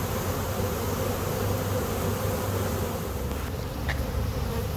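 A dense, steady drone of many honeybees buzzing and fanning their wings at a hive entrance, close and continuous, with no voices.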